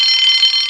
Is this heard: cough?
no